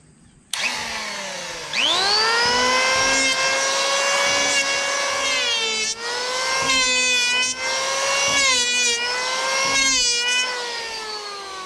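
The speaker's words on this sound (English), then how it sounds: "bring it down a little bit with this power planer, and this takes off a lot of material fast, and that blade spins crazy quick" An electric power planer spins up with a rising whine and then runs loud and close, shaving down dried, glued wood on a rotted sliding glass door frame, its pitch dipping each time the blade bites into the board.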